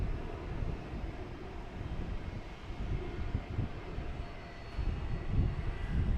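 Airplane engine roar at Boston Logan Airport during takeoff or landing, a steady distant rumbling drone with wind buffeting the microphone, swelling slightly toward the end, with no voices.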